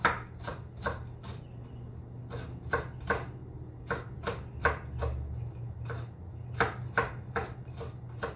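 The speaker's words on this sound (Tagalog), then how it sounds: "hiwa tayo ng bawang" A knife chops garlic on a cutting board in a home kitchen, giving a steady series of sharp, close taps in uneven bursts over a low background hum.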